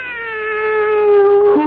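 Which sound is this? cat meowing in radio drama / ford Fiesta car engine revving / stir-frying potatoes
cat meowing in radio drama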